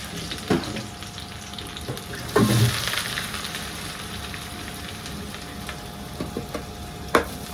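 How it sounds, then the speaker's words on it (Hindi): Garlic sizzles and crackles in hot oil in a pan, a steady soft frying hiss with a few louder pops and stirring clinks, close and fairly quiet. "तेल हो गया है गरम और इसके अंदर ऐड कर दिया है लहसुन।"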